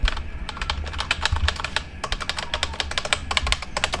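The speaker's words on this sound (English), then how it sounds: "It's mechanical keyboard." Rapid, steady clacking of a mechanical gaming keyboard with red switches being typed on, close up and fairly loud, with no voices.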